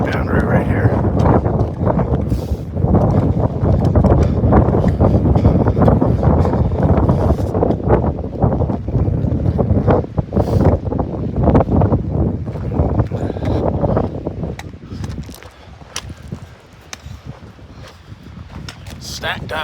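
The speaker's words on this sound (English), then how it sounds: "Head back into the bitter cold wind." Bitter cold wind blows on a high mountain hillside at the top of a ski bowl, roaring and buffeting the microphone in loud, uneven gusts that ease slightly near the end.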